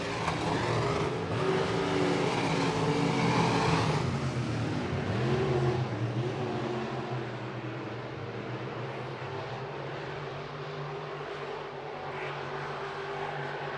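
Hobby stock or modified race cars roar around Buena Vista Raceway in a night heat race, a loud, sustained engine drone with revving swells that eases slightly toward the end, with no commentary heard.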